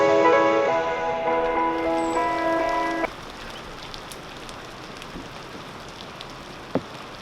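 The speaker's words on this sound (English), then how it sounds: "It's raining, heavily pouring outside." Heavy rain pouring outside an abandoned school, a steady dense hiss throughout, partly under a sustained tonal hum for the first few seconds, then alone with an occasional faint tap.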